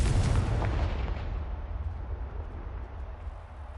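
Confringo explosive spell in the video game Hogwarts Legacy, one loud booming blast that decays into a long rumbling tail, close and alone.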